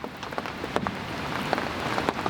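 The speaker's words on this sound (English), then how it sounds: "the rain has calmed down, but it's still pretty wet" Light rain falling at a lakeside campsite, a steady soft patter with scattered louder drops hitting a nearby surface.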